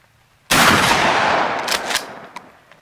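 A 12 gauge Winchester 1300 Defender shotgun fires a 3-inch magnum one-ounce slug, making a single loud, sharp blast close by that rings out and decays over about two seconds.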